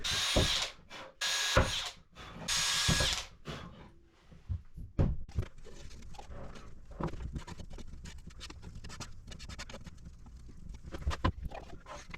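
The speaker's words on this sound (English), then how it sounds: "this time I think I will pre-drill" A power drill pre-drilling sapele wood for a wooden boat door whirs in several short bursts, then a series of sharp clicks and knocks from handling tools and wood.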